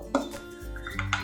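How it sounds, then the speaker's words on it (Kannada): A spoon stirring tempering into cucumber chutney in a pot, giving a few brief clinks and scrapes against the vessel, close and fairly quiet, with no talking. "ಈ ಒಗ್ಗರಣೆನ ಒಂದ್ಸಲ ಕ್ಲೀನಾಗಿ ಮಿಕ್ಸ್ ಮಾಡ್ಕೊಳ್ಳೋಣ"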